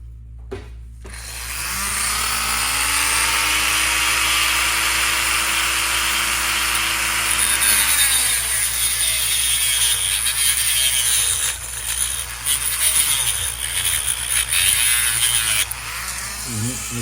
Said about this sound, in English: Okay, so now we got our cutoff wheel. Let's get to it.